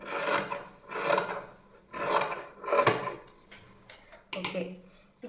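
Excess cloth is cut away while stitching a cloth bag, heard as four rhythmic, close rasping snips about a second apart, followed by a sharper click.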